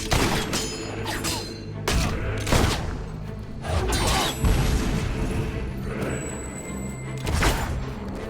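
Gunfire and explosions during a castle assault in Fable 3, with loud repeated booming blasts and crackling shots coming in bursts every second or two.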